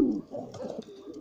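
Racing pigeons coo softly in a low, continuous murmur, with several overlapping birds close by across the short stretch.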